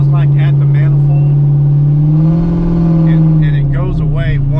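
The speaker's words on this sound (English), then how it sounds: "It's got a little bit of an exhaust leak." A 1999 Ford Mustang fitted with a Kenne Bell supercharger and carrying an exhaust leak at the manifold revs loudly up close, its engine note droning and swelling through a rev before settling again.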